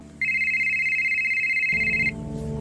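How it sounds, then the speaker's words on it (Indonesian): A mobile phone rings with a steady, loud electronic tone held for nearly two seconds, then cuts off as a low rumbling background swells underneath. "ia menemukan sebuah ponsel berdering"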